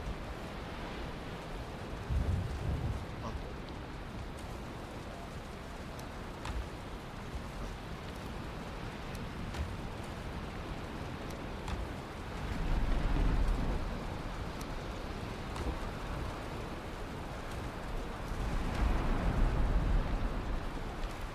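Steady rain hisses through a Valheim storm, with low rumbles of thunder swelling around the middle and again near the end; no one speaks.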